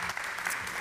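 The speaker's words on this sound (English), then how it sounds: "Big round of applause for Jose Olariaga." Audience applause at the South Summit 2023 startup pitch stage, a steady, dense wash of clapping from a crowd with no voices over it, moderately loud and even throughout.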